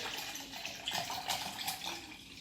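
Water poured or running from a tap into a container to top up lemon concentrate to one litre, a steady splashing, gurgling stream that lasts throughout, close and moderately loud, with no talking.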